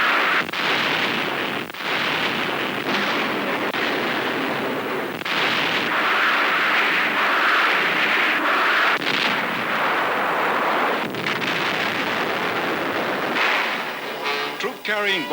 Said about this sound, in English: Rocket fire plows up enemy cave defenses on shore.